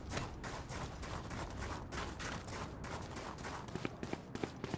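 Dense rapid gunfire in Valorant rattles continuously, with a few sharper single shots popping out near the end.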